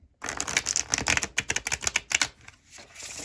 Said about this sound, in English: oh my gosh, this is such a good shuffle.